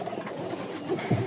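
A female Garra pigeon gives a short, faint coo near the end of a quiet moment, low and soft against a light background hiss.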